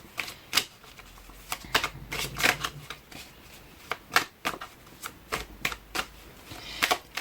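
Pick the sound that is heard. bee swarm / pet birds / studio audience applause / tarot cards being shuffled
tarot cards being shuffled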